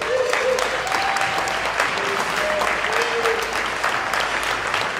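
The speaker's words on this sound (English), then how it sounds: "she can deserve a round of applause" Steady, dense applause from a crowd at a Passaic County Democratic Party event, loud and continuous for several seconds, with faint voices mixed in.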